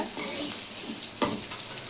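Onions sizzle and crackle in a hot pan while a spoon scrapes and stirs them until browned, close and continuous.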